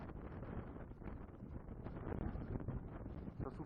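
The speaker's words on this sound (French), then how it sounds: "Vous avez un aperçu du blizzard qui vient de se lever." Strong blizzard wind roars on the north face of Mont Ventoux at about 1850 metres, a steady, dense buffeting rush that batters the microphone throughout with constant gusty turbulence and no voices.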